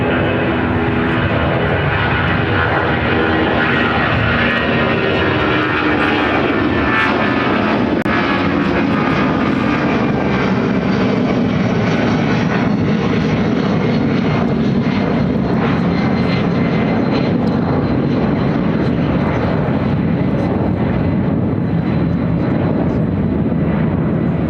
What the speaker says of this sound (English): Delta Airlines 1178 taking off to Atlanta